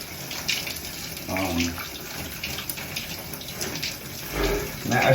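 A shower runs indoors, bursts of splashing and running water rising and falling unevenly, moderately close and fairly quiet, with faint voice-like sounds in the background.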